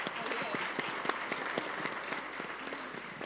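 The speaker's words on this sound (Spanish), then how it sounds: "aplauso." Audience applause at a business summit on regenerative enterprise, steady dense clapping throughout with a murmur of voices and talk mixed in underneath.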